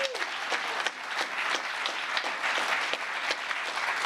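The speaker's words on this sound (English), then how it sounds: "So how about a round of applause for Chief Master Sergeant Roger Tauberman." Steady audience applause fills a ceremony marking the first anniversary of the Space Force, a dense wash of many hands clapping continuously at moderate distance with no speech over it.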